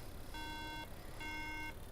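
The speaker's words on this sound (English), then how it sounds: "once you get the 3 RAM beep, it's probably not really worth doing much more" A 2012 MacBook Air logic board sounds its RAM error code: faint, steady electronic beeps, two clearly spaced tones shown here, against a hissing bench background with no talking.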